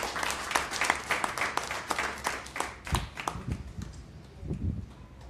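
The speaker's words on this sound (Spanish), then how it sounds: "Vamos a dar un fuerte aplauso al Rey de Reyes." A church congregation claps in praise during a service, uneven, separate claps at first, then thinning into scattered, irregular hand claps, fairly close and moderate in volume.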